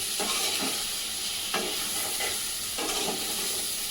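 Irukaya curry being stirred in a pan, a steady sizzle with several scraping strokes of the spoon at regular intervals, close and fairly loud, with no talking.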